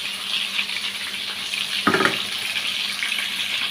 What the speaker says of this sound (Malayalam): ചിക്കൻ്റെ ഈ വെള്ളത്തുണ്ടാവില്ലേ അത് ഊറ്റിച്ച വള്ളം അത് നമ്മൾ ഈ ചോറിൽ ഒഴിച്ചു കൊടുക്കാം